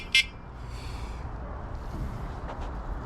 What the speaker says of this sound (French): Un petit klaxon.